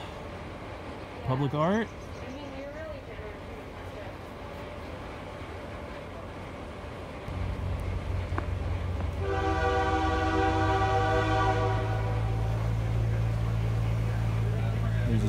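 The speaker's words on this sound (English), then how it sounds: "There's a train in the distance." A train passes in the distance, a steady low rumble that rises and swells with horn-like tones over the second half, after brief talk near the start.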